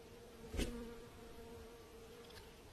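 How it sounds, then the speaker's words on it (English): Flies and other insects buzz around a honey badger's nose, a faint steady drone with one brief louder swell early on as an insect passes close. "The cleanup crew even catches the annoying flies buzzing around the badger's nose"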